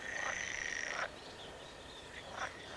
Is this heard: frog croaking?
yes